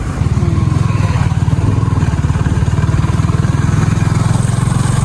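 A stunt motorcycle engine runs close and loud, holding a steady throbbing idle with a rapid regular beat and slight revving throughout, with no voices over it.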